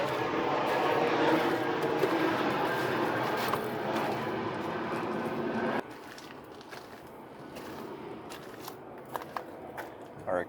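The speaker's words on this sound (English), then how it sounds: "A lot of airplanes flying over." Airplanes fly overhead above an Arizona junkyard, a faint broad roar that washes steadily through the background, with some shuffling and handling noises nearby.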